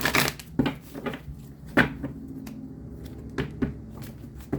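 Tarot cards being shuffled during a reading: a few soft, separate riffles and taps spaced out over several seconds, close and fairly quiet, with no talking.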